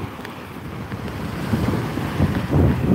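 Strong gusting wind from an approaching storm on the shore of the Hudson River, a steady low roar that builds and surges louder toward the end, with buffeting rumble against the microphone.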